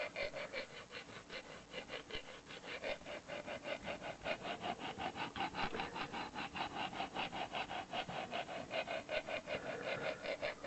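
A knife blade is drawn along a Lansky extra coarse sharpening stone at a 20-degree bevel, making a quiet, even run of short rasping strokes in a steady back-and-forth rhythm.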